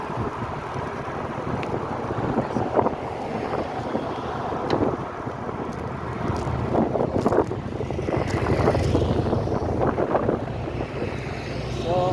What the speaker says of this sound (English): There's still the wind is blowing from the southeast and the northwest